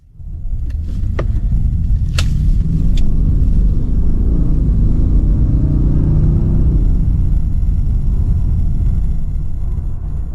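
A Bentley Brooklands Coupé accelerates hard in sport mode, a deep, loud, continuous engine rumble heard from inside the car that holds steady with a few brief clicks near the start.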